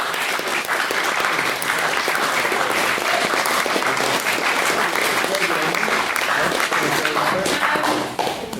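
Audience at a formal debate on cancer treatment funding giving the main speaker loud, sustained applause, a dense continuous wash of many hands clapping that tapers off at the end.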